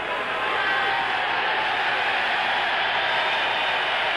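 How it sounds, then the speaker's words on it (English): A live boxing crowd at a 1975 Toronto exhibition cheers Terry Daniels, a dense, steady roar of many voices heard from within the arena, unbroken and fairly loud. "Terry Daniels being cheered by the crowd."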